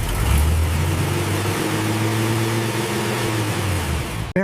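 A Toyota Fortuner engine running alone on a factory test stand, a steady low droning hum with a slight rise near the start, close and continuous, cutting off at the end.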